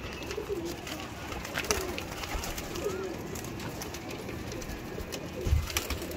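A pair of breeder pigeons coos softly and repeatedly, low rolling calls sitting under a constant outdoor background hiss, with one brief thump near the end.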